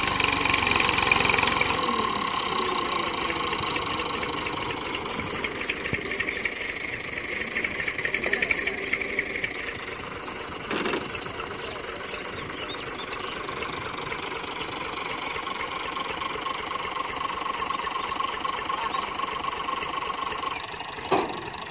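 A Massey Ferguson 240 tractor engine labours steadily for the whole stretch while pulling a loaded trolley, with a continuous mid-pitched knocking rumble, near and fairly loud, and a brief sharp knock around the middle.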